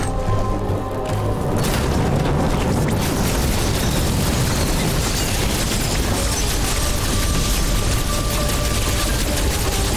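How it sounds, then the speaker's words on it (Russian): A loud, sustained explosion roars through the Metroid Dread game on Nintendo Switch, a dense booming rumble that swells after a brief opening and keeps rolling with crackling bursts for several seconds, with no talking. "Это за взрыв такой был."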